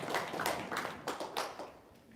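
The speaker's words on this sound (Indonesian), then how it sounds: "yo tepuk tangan dong" An audience claps in a short, sparse burst of roughly eight distinct hand claps, fairly faint and uneven, with no talking over it.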